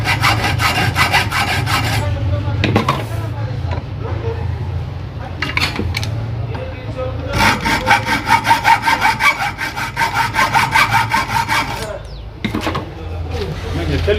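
Hand saw blade cutting through the commutator of a Bosch hammer drill armature, steady rasping back-and-forth strokes in bursts with short pauses, close and loud, under a low background hum.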